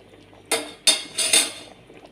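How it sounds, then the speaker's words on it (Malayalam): Ghee rice being stirred in a pot over a high flame, giving four short metallic scrapes and clinks of a spoon against the pot in an uneven rhythm, close and moderately loud with no talking. "ഒരു 2 സെക്കൻഡ് വരെ ഫ്ലെയിം കൂട്ടിയിട്ട് നമുക്കിതുപോലെ ഇളക്കി കൊടുക്കാം."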